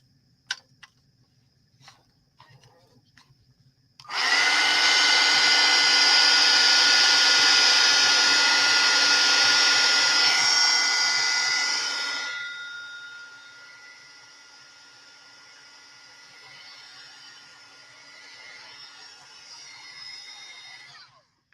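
A dryer blows hard for about eight seconds, drying paint on a grungy art envelope, then its whirring drops to a softer, steadier drone; a few faint taps come before it starts.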